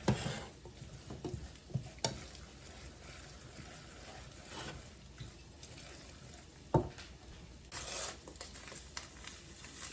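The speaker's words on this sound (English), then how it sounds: "Now, let's put the butter in and let it be melting." Butter melting in a pan beside a Dutch oven roast and drained pasta, a quiet, faint sizzle broken by several sharp clinks and stirring scrapes, with no one talking.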